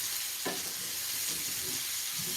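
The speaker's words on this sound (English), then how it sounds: "We continue sauteing until the onions begin to sweat." Onions sauté in a pot over medium-low heat, giving a steady soft sizzle with a brief stir scrape, close but fairly quiet.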